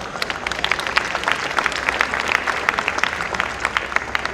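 An audience at an Urdu conference applauds with dense, steady clapping from many hands. It sounds moderately close and continuous, with no talk over it.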